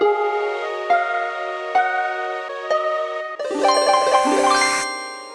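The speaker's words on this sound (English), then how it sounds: "You replicate the notes the fairies gave you onto this harp" Bright plucked harp notes from a video game puzzle ring out one at a time, then a quick shimmering cascade of higher tones sweeps up and fades.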